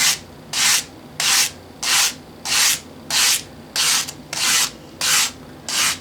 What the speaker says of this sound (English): keep your file clean with a file brush, which you will run this way.